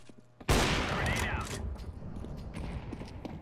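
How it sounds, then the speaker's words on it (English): Gunfire in the video game CS:GO: a sudden, loud burst of shots after a brief quiet moment, followed by a continuing rattle of fire that gradually fades. "you're shooting through the fucking wall"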